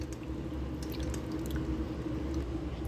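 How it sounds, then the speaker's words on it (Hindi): Cold water is poured over drained, freshly boiled sago pearls in a kitchen, giving a steady, close wash of splashing liquid with soft drips throughout, with no talking. "अब इसके ऊपर ठंडा पानी डालेंगे ताकि स्कॉच जो है वो ख़त्म हो जाए।"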